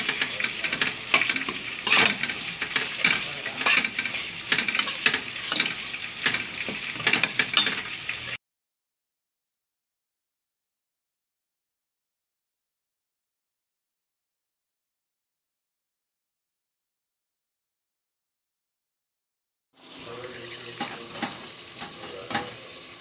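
Chicken masala frying in oil with turmeric, a busy crackling sizzle with stirring scrapes, cut by a long stretch of silence before the sizzling returns, with no talk.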